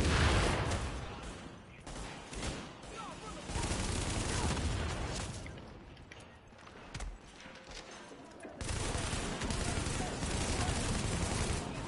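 Gunfire in The Division, a third-person shooter, rings out in bursts and rapid volleys. A voice chats over the shooting, and the clatter swells and fades through the stretch.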